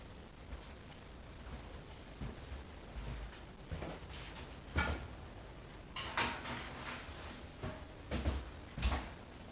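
Kitchen oven door being opened and closed as a tray of bacon-wrapped cheese potatoes goes into a 400-degree oven: scattered clunks, scrapes and clacks of metal and hinges at close range, with a few sharper knocks near the end and no speech.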